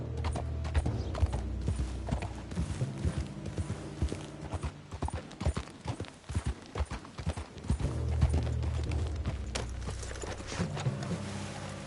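Horse hooves clip-clopping in a steady galloping rhythm in Red Dead Redemption 2, close and continuous, with creaking tack and mechanical rattles underneath.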